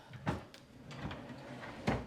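A household drawer slides open and shut in a bedroom sewing setup, with a near, sharp knock near the start and another thump near the end, a softer slide between them, and no talking.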